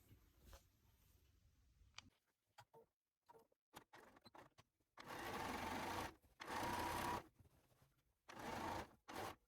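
A sewing machine stitches the inseams and crotch seam of a pair of pants, running in several loud bursts with short pauses and light clicks between them.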